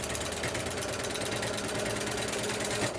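Sewing machine stitching steadily through thick binding seams, its presser foot bouncing over the bulky joined seam; a continuous, loud mechanical whir and rapid needle clatter with no talk.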